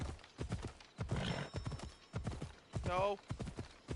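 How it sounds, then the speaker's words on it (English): Hooves clip-clop at a gallop under a fire horse in the video game Assassin's Creed Odyssey, with a whinny rising near the end, all under loud excited talk. "I'm on a fire horse!"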